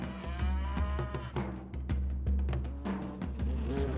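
A cow moos loudly and close, a long low bellowing call that runs through most of the moment with brief breaks, heard alone without talk.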